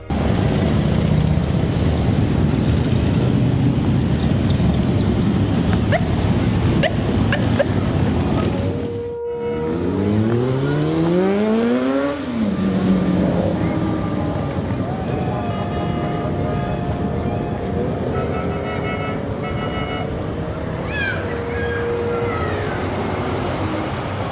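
Motorcycle engines rumble and roar continuously at close range in Salem, Massachusetts, with rising revs sweeping upward midway as they pass, loud throughout.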